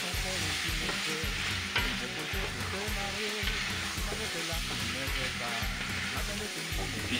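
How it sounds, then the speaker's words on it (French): Beef stew with potatoes and carrots stirred in a pot over a steady simmering sizzle, a rhythmic chunky scraping repeating close up, faint voice beneath. "on va pouvoir y rajouter nos pommes de terre et nos carottes coupées en morceaux. On va les mélanger."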